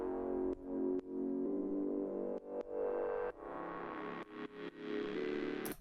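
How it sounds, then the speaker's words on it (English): A sustained synth pad with a rain-on-roof character, played without ShaperBox processing, a smooth held tone with several chord changes and faint clicks at the note transitions, heard alone. "I have a rain on roof,"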